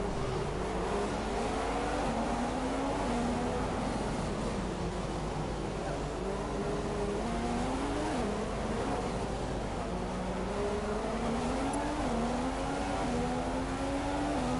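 Race cars in the video game F1 2015 whine continuously at high revs, with engine pitch rising and dropping through repeated gear shifts, loud and steady throughout.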